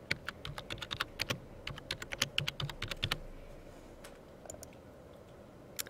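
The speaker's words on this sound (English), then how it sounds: "you just type it in and then hit title key" Quick, irregular clicking of keys on a computer keyboard as a book title is typed into a library catalogue search, loud and close for about three seconds, then a few scattered keystrokes.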